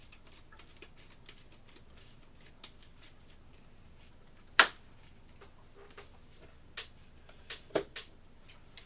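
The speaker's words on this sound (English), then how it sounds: "let's shuffle up the AI deck, see what we draw" Cards of the AI deck for the board game Kingdom Death: Monster are shuffled and handled on a table, giving soft scattered riffles and sharp isolated snaps, quiet and close with no talk.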